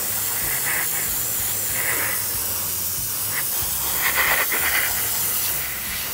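A steady airy hiss of a spray gun spraying paint on a Matchbox King Size K4 Fruehauf hopper model runs throughout, with brief brighter bursts and a low mechanical hum underneath; no one speaks.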